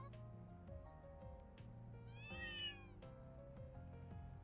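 Cats meow in the Trails Through Daybreak video game, a cluster of rising mewing calls over steady game music, faint in the mix, with no talking.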